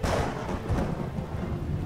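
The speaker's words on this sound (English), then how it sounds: "That thunder was loud." A loud rumble of thunder rolls through a stormy scene in Batman: The Telltale Series, a heavy low boom near the start that trails off into a rainy background.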